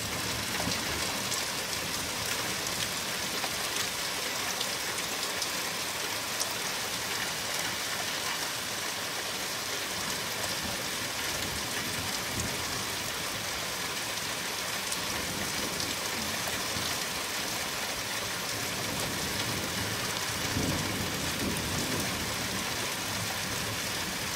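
Steady heavy rain falls during a severe summer thunderstorm in the UK, a dense even hiss of drops on surfaces continuing throughout, with no distinct thunder crack standing out.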